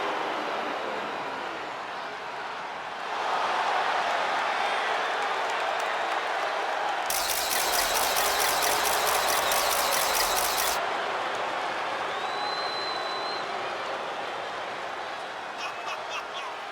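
A home arena crowd in the WWE 2K25 wrestling game cheers and applauds for Tiffany Stratton's entrance. A broad, steady roar swells and holds at a moderate level under a loud, buzzing entrance effect, with a commentator's voice over it.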